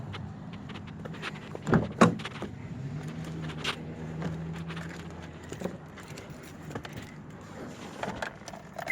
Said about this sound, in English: I do go inside the car, start up the engine.